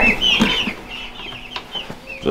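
Chickens clucking as they head out to the coop, several close, busy calls overlapping in a loose, uneven rhythm with no talk.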